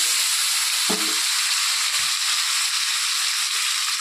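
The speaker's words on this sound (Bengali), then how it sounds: "এখন ওই তেলের মধ্যেই আমি কাঁকরোল আর আলুগুলো ভেজে নেব" Spiny gourd (kakrol) and potato pieces frying in hot oil give a steady, loud sizzle, with a brief clatter of a utensil stirring the pan near the start and a soft knock a moment later.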